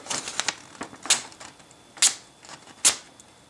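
A Sogzilla SP01 knife slices through paper, several sharp, crisp rasping cuts in an irregular rhythm, close and distinct against a quiet background.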